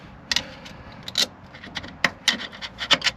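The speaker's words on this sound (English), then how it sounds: "it might pop in with a screwdriver actually" A screwdriver scraping and clicking against a circlip while it is pushed into a Vauxhall F16 gearbox, close metallic taps and rubbing scrapes in irregular bursts, with no talking.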